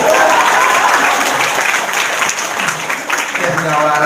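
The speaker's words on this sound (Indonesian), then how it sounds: "Tepuk tangan." Loud, close applause from an audience at a talk, with dense clapping throughout and a voice starting to speak near the end.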